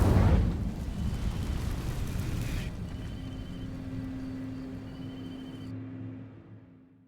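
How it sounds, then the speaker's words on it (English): A fiery burst from the Incendio spell in Hogwarts Legacy sets dry vines alight, starting with a loud blast and settling into a sustained roaring crackle with a low hum beneath that fades toward the end. "These dry vines are one spark away from becoming kindling. Incendio!"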